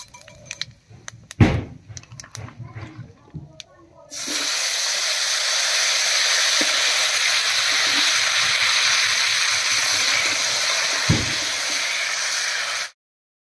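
Cut potatoes dropped into hot oil already tempered with whole cumin and a bay leaf: a few knocks and clatters at first, then a sudden loud, steady frying hiss that holds for about nine seconds and cuts off.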